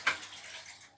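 Water poured into a cooking pot in a home kitchen in St. Vincent, a brief splashing gush that starts strongly and settles into a softer, continuous trickle, heard alone and close up.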